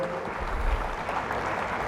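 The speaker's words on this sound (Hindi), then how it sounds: "तालियों से" Applause from a seminar audience at an inaugural session of a panchgavya medical conference, a steady dense wash of clapping with no clear individual claps.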